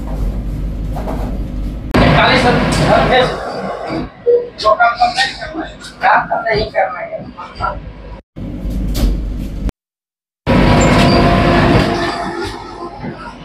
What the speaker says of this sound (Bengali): তো কাটিয়া জংশন থেকে বেরিয়ে যাচ্ছে আমাদের এই ট্রেন।